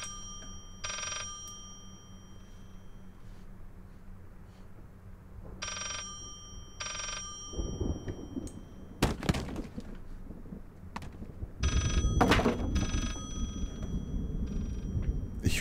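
In the horror game Layers of Fear, a telephone bell rings in several short bursts spaced apart, then heavy thumps and rumbling, door-like knocks build up louder toward the end, with no talking.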